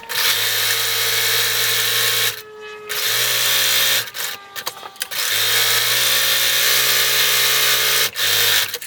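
A sewing machine stitches a robe seam with a steady loud mechanical whir, stopping briefly several times for pivots and backstitching before running on again.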